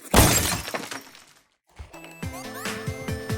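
An iPhone drops and breaks with a loud crash and shattering burst, then a short silence before faint rattles and a tonal electronic chime pattern.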